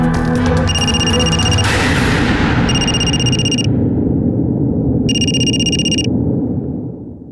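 A phone rings on speakerphone after a number is dialed, with repeated bursts of a bright electronic ringtone separated by short gaps, loud over a dense background of noise and music.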